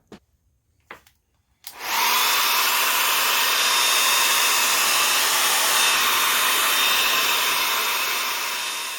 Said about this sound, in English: I'm going to reach over for a hair dryer